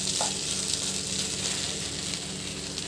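Okra (bhindi) frying in an open pan, giving a continuous, even sizzle at moderate loudness with faint stirring underneath.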